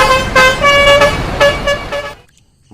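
A toy bus telolet horn plays a bright, tuneful melody of several rising and falling tones in close repeated bursts, loud and near, before cutting off into brief silence.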